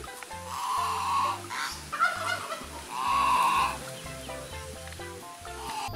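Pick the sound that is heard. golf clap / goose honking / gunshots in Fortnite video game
goose honking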